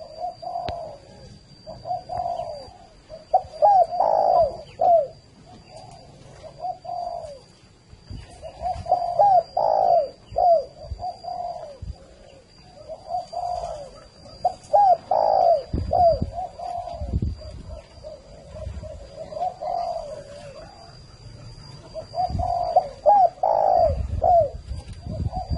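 Spotted doves coo over and over in a large 300-square-metre aviary, their soft, rounded phrases repeating in steady rhythmic bouts close by with no talking.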